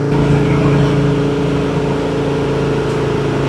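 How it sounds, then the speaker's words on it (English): A 1966 Chevrolet Nova engine with headers and dual exhaust idles with a deep, steady rumble and throaty exhaust note, loud and close, holding an even tone throughout. "You can definitely still hear the motor. You can also hear the exhaust"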